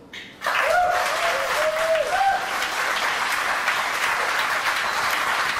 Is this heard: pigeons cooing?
no